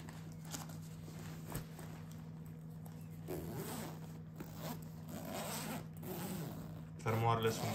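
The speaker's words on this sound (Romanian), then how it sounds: "Fermoarele sunt de foarte, foarte bună calitate." A zipper on a men's shoulder bag of natural leather is pulled open, a long scratchy run of teeth close up, ending in a brief louder zip.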